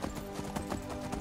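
Horse hooves clip-clop steadily in Skyrim, a continuous rhythmic trot of close, moderately loud hoofbeats with no talking.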